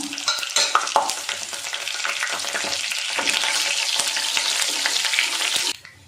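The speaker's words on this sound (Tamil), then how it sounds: "இப்போ எண்ணெய் நல்லா கஞ்சிருச்சு அதில் வந்து ஒரு ஸ்பூன் சோம்பு சேர்த்துக்கலாம்" Fennel seeds and dried chillies frying in hot oil for a chicken dish, a loud, close, crackling sizzle that swells after a few stirring knocks and then cuts off abruptly at the end.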